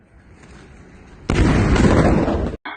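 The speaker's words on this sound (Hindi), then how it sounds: "अंत में देखिएगा धमाका कैसे होता है" A single loud explosion from Beersheba in southern Israel bursts out after a stretch of quiet low rumble, holding as a dense broadband roar for over a second before cutting off.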